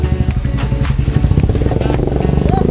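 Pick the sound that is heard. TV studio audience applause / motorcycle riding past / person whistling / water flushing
motorcycle riding past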